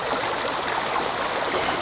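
Water is poured steadily into a container of natural, unprocessed Celtic-type salt, giving a constant gushing, bubbling stream sound close to the microphone with no voices.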